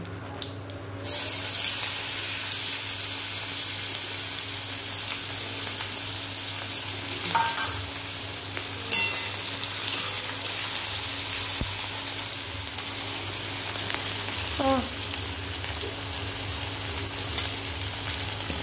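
Onion drops into hot oil already tempered with cumin, bay leaf and dried chilli, setting off a sudden loud sizzle that holds steady for many seconds, with occasional faint clinks of stirring.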